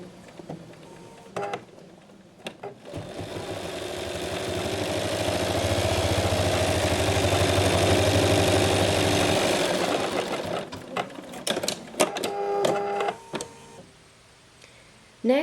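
An embroidery machine stitches a green rind placement line for an in-the-hoop watermelon coin purse, a fast steady mechanical whir for about seven seconds with softer clicks and taps before and after.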